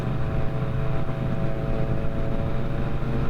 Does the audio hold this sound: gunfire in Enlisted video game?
no